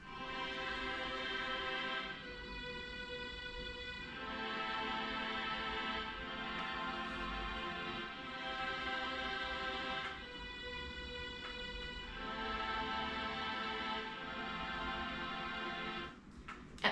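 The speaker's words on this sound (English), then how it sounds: "So this is what it sounds like as strings." A sustained string ensemble plays a slow, layered melody with long held chords that swell and shift every couple of seconds, steady and fairly loud throughout.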